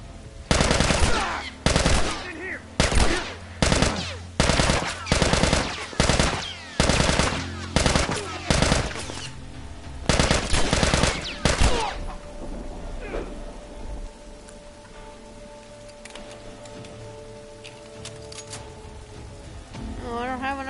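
Gunfire in The Last of Us remake during a fight: a dozen loud, evenly spaced heavy bursts hammer out for about twelve seconds, then stop, leaving rain-like ambience and low rumbling.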